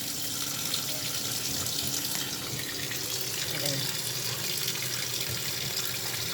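Tap water runs steadily from a kitchen faucet into a sink while raw fresh chicken is washed, a continuous close splashing hiss that fills the whole stretch, with no talk over it.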